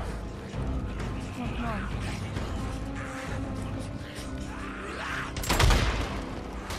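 A gunshot burst from the open-world zombie-survival video game Days Gone rings out loud near the end, amid busy game ambience, with someone talking over most of the scene.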